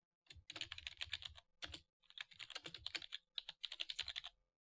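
Quick bursts of clicking keystrokes on a computer keyboard, typed close up in short runs separated by brief pauses, with no talking.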